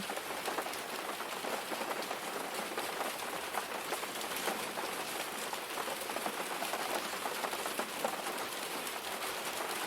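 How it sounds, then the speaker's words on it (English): Steady rain falls on a surface, a dense, even hiss of drops that carries on without a break, with no voices. "just gently focus your attention on the sound of the rain"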